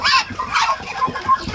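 Chinese ducks on a small duck farm give a few short honking calls close by, repeated in quick bursts over steady farmyard background noise, with no one talking.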